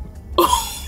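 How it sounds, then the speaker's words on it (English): A single loud burp rises out of quiet near the microphone, a brief voiced eructation with a tonal start that fades over about half a second. "I have to burp."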